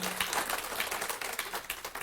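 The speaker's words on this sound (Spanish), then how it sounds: "déselo fuerte el aplauso al Señor" A church congregation claps during a Sunday Mother's Day service, a dense burst of many hands applauding together for a couple of seconds.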